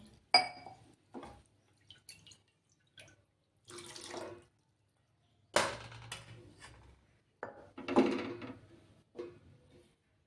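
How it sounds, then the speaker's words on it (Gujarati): Water poured from a vessel into a pot of mixed dal being cooked, several short splashing pours and trickles separated by quiet gaps, close and fairly soft. "થોડુંક પાણી એડ કરશું"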